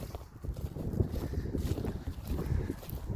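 Strong wind sweeps across a farm hillside beside a main road, buffeting the microphone in uneven gusts that rise and fall throughout.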